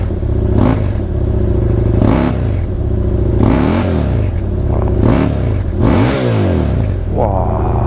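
A motorcycle engine revs up to about 3000 rpm in repeated bursts, roughly four rising surges with mechanical clatter between them, loud and close throughout.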